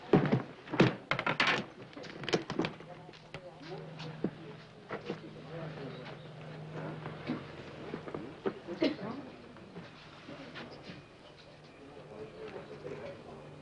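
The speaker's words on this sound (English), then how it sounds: "Open this one, please." Luggage opened for inspection at a customs desk, a burst of loud thunks, clicks and latch snaps up close at the start, then quieter scattered clunks and rustles with voices talking around it.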